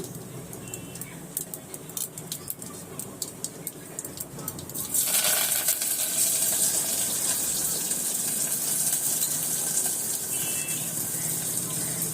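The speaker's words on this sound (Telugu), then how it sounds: "పచ్చిమిర్చి, కరివేపాకు, ఉల్లిపాయ, బీరకాయ, శనగపప్పు అవి చిటపటం అనాలి." Green chillies, curry leaves, onion, ridge gourd and chana dal are dropped into hot oil already tempered with cumin and mustard seeds, and a sudden loud hissing sizzle starts midway, crackling steadily after a quieter stretch.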